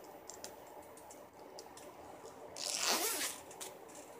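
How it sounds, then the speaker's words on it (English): A jacket zipper pulled up in one smooth, rasping stroke lasting about a second, close and fairly loud after quiet rustling of fabric. "Let me zip it up."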